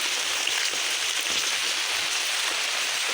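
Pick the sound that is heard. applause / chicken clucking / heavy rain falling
heavy rain falling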